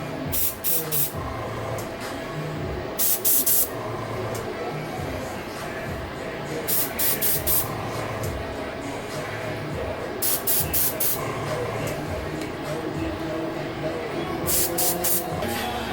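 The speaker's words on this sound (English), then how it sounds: "From the paint spray." Steady hiss of a spray can in short repeated bursts, loud and close, over a busy background of voices and room noise; spray paint applied to hair art during a fade haircut.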